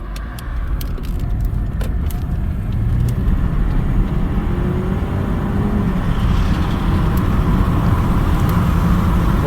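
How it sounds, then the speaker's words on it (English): A 2019 Ford Edge SEL engine drones steadily while pulling out into traffic, with road noise building as it accelerates; a few faint clicks sound early on. "we're about to pull out into traffic here."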